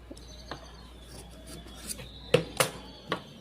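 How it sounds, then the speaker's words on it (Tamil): Scissors cut through fabric for a two-colour fish-cut sleeve design, giving a few short, crisp snips with soft rasping in between, close by in a quiet room with no talking. "இதை கட் பண்ணி திருப்பிக்கலாம்."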